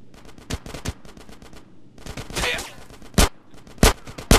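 Gunfire erupts in the video game GTA San Andreas, loud rapid bursts of automatic shots mixed with single heavy reports in an irregular battle rhythm, with shouting voices in between.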